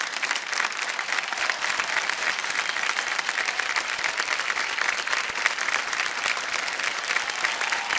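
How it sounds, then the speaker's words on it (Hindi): Dense, continuous studio audience applause on the KBC game show set, loud and even throughout with no voices breaking through. "तालियां बज जाए जोरदार"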